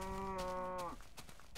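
A cow in Minecraft gives one clear, drawn-out moo lasting under a second that dips in pitch at the end, followed by faint, scattered game noises.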